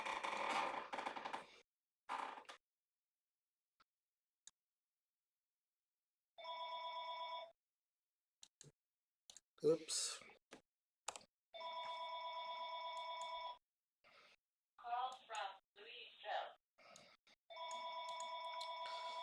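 Telephone bell ringing in repeated bursts with pauses between, fairly loud and close, heard indoors while someone works on a computer graphics mandala project; a brief spoken word and scattered clicks fall between the rings.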